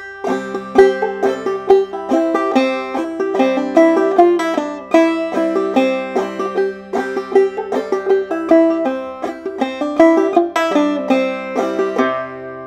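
Clawhammer banjo plays the B part of the fiddle tune Snowdrop, a steady rhythmic run of bright plucked notes and brushed strums over about twelve seconds, close and clear with no talking.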